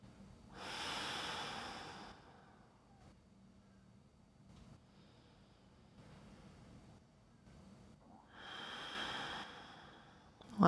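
Two slow, deep breaths during a gentle yoga flow, each a long airy inhale or exhale a couple of seconds long, close and soft with quiet pauses between.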